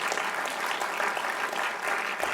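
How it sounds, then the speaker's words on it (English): Audience applause at a Taronga accelerator program pitch event, a steady dense wash of clapping from a crowd that carries evenly through the whole stretch without a break. "Give all the teams a final big round of applause for us"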